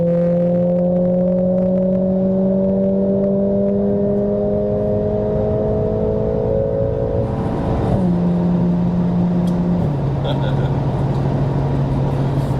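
Mercedes A45 AMG accelerating on a full German Autobahn: a steady engine drone with rising tones as speed builds, then gear changes around eight and ten seconds, under constant road and wind roar from inside the car.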